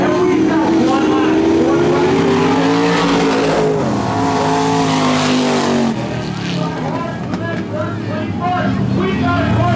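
Monster truck engines roar loudly and continuously as the trucks race wide around a dirt track at a Nitro Tour show in Ennis, Texas, with tires skidding and an announcer talking over the noise.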